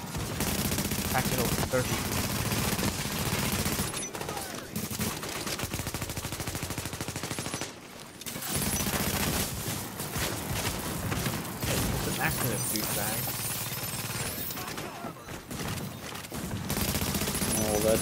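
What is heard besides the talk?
gunfire exchanged with NPCs in the video game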